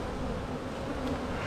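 Honey bees swarming around an open hive, a dense continuous buzz close by, steady and even with no other sounds.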